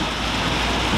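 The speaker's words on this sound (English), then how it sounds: "That there is what you call a washing rain." Heavy, steady rain pouring down during a summer storm on a hay farm, a dense, continuous wash of drops close by with no voices.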